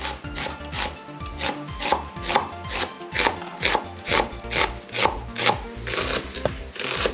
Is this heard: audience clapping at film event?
no